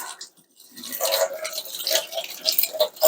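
Water runs and splashes into a pot being rinsed out after straining homemade beef stock, a steady close-up trickle and splash building after a brief quiet start.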